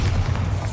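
Bombarda explosion spell in Hogwarts Legacy, a deep rumbling boom with heavy low-end weight that fills the whole short moment, loud and sustained without a sharp attack.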